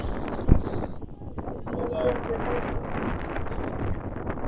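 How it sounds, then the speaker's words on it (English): Steady rushing wind at about 31 mph buffets the microphone in low, continuous gusts at a baseball game, with a brief thump near the start and faint background activity. "Another one of those 31-mile-an-hour wind gusts is sending a lot of dust"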